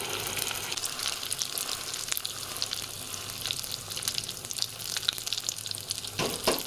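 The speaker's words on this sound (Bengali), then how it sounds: "এটা একটুখানি ভাজা যেহেতু হয়ে যাচ্ছে, আমি ট্রাই করছি আরেকটা পাশে দিয়ে দেওয়ার।" Chana dal pitha fries on very low heat, giving an even, continuous sizzle close by, with occasional small crackles and a slight knock near the end, and no talking.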